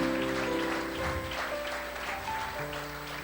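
A church congregation claps along during a sermon: steady, sustained applause filling the room, with musical tones sounding underneath.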